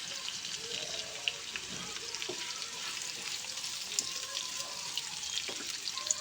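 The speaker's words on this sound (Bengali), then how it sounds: "এরপর আমি আলুগুলোকে ভেজে নিয়েছি, এর মধ্যে আমি দিয়ে দেব কেটে রাখা ঝিঙে।" Potatoes and chopped ridge gourd fry in a pan with a steady, hissing sizzle, broken by soft stirring scrapes and a few light clinks, close up and without any talk.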